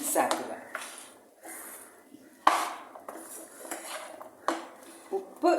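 Mango pickle being stirred with crushed mustard seeds in a bowl, giving repeated scraping and clinking strokes of a utensil against the dish at close range, irregular in rhythm.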